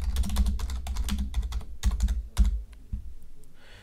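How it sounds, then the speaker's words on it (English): Rapid typing on a computer keyboard, a close, steady patter of key clicks with a few heavier strokes, running for several seconds before trailing off, with no voices. "Now you can type your message as you would on the sender screen."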